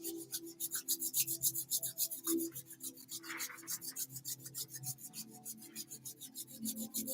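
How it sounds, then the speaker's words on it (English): Hands rubbing briskly together, a steady rapid swishing friction repeated in quick strokes, close and fairly quiet, with no talking over it. "Let's rub the hands together."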